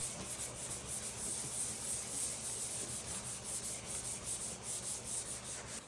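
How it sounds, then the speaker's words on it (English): Steady abrasive sanding of the EDP coating off a new car fender, with rhythmic back-and-forth strokes continuing throughout, close and fairly loud, with no voices. "We began by sanding off the EDP coating from the new Fender."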